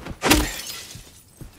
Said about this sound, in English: Sounds like breaking glass.